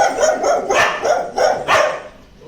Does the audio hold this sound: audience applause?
no